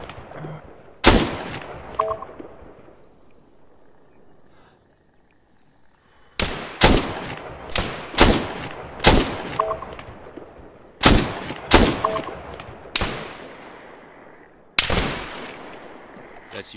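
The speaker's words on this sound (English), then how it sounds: "That's you shooting?" Gunfire in the video game Arma 3 DayZ Exile: sharp, loud shots ring out singly and in quick clusters, with one early crack, then a rapid run of about six, a pause and a few more, each trailing a short echo.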